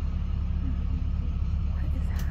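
A low, steady engine rumble fills the inside of a bus that is running poorly, a constant droning hum with no breaks.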